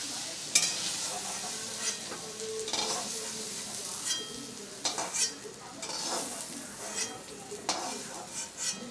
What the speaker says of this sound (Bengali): আমার ওলগুলো দেখুন ভাজা হয়ে গেছে হালকা করে।